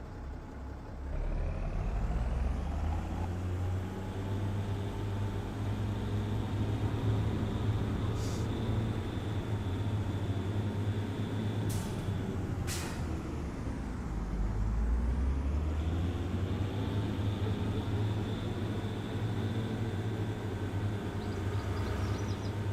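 A 260 horsepower farm tractor engine pulling a trailer in a farming game: a continuous low diesel drone that rises and falls with load, with a couple of brief hissing bursts partway through and no talk.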